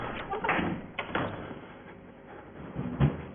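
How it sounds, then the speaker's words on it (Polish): Door closing in the horror video game Outlast, a few dull thuds and knocks at moderate loudness, the clearest impact near the end, with faint background sounds between. "Wyszedł, żeby zamknąć drzwi."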